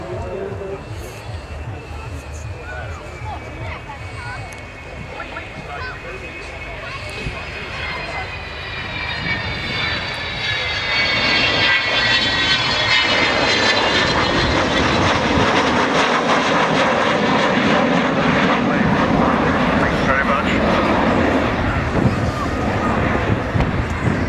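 Avro Vulcan bomber with Olympus engines in a flying display at an air show, a loud continuous jet roar that swells and deepens as the aircraft passes close, with whining high tones sliding through the rumble.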